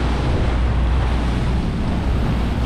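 Water waves break and slap against a post, producing a continuous loud broadband wash with wind rumble, steady across the few seconds with no voices.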